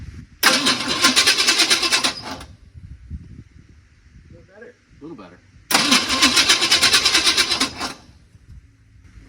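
A 1980 Chevy K30 Squarebody truck engine cranks in two long, loud bursts of rapid churning, separated by a quieter stretch where people talk briefly.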